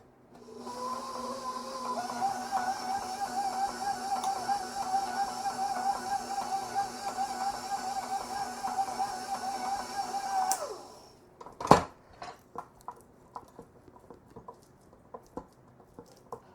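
Electric stand mixer whirring steadily at low speed as butter is worked into a Finnish Shrove Tuesday bun dough, a continuous motor drone with a rhythmic beater tick, then cutting off abruptly followed by faint clinks.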